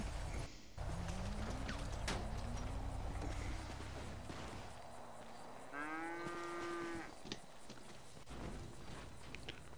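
A cow in a Carolina State roleplay video game moos several times, long drawn-out lowing calls mid-clip, with hoof-like clip-clop steps and a steady background rumble throughout.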